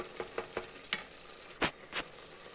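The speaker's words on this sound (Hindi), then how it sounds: "अब हम इसमें ऐड करेंगे हल्दी, बिस्मिल्लाह। मिक्स करके और फ्राई करना है।" Turmeric and spinach fry in a pan, with a soft background sizzle broken by a series of distinct stirring scrapes, several quick ones early and a few louder, spaced strokes later, with no talking.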